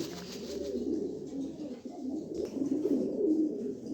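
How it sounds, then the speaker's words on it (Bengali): A courting pigeon pair, a red jacket male with a hen, coo in low, continuous burbling phrases, close and soft, swelling near the end. "মাদি রেড জ্যাকেটটা হচ্ছে নর এদের প্রেম পেরিতি চলতেছে বিডিং করতেছে"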